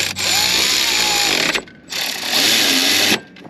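A power tool whirs in two bursts of about a second and a half each, zipping alternator bolts snug on a car, loud and close with a whining motor tone and a short pause between runs.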